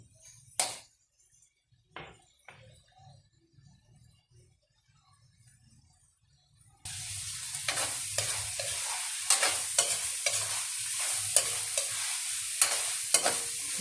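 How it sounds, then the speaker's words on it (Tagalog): Pork fat and meat for mung bean stew are stirred and tapped in a pan, a few isolated clinks giving way to a loud, continuous frying sizzle broken by repeated scraping strokes. "pa-browning lang po natin yung itong laman bago po natin igisa ang munggo mga kaguro"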